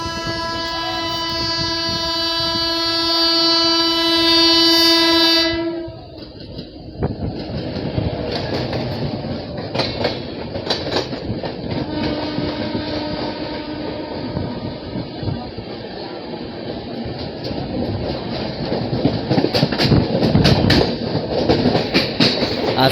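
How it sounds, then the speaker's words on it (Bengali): Pallavan City Superfast Express 12694 sounds a long, loud harmonic horn, then roars past close by with heavy rumbling and rhythmic wheel clatter that keeps going to the end. "সামনে থেকে আসছে one two six nine four পাল সিটি সুপারফাস্ট এক্সপ্রেস"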